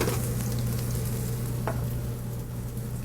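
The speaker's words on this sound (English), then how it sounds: "My next pan, I'm just going to start sauteing my vegetables, which are going to go inside of my white beans." Fennel, onion and other vegetables sauté in olive oil in a pan, giving a steady close sizzle with stirring, no voices present.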